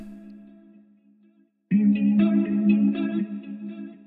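Guitar melody loop processed through Guitar Rig with reverb, a quiet sustained tone that cuts out, then a louder swell of chorused, distorted guitar notes with washy reverb tails.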